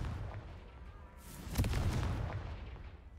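A Confringo fire spell blasts in Hogwarts Legacy, a sharp explosive boom midway over a steady rumbling game background, trailing off into a crackling decay.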